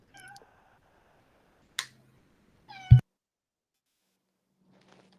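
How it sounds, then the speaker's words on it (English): A short cat meow is heard near the start and again just before a sharp click, with long quiet gaps between these brief, fairly faint cries. "Who got the cat? Who got the cat?"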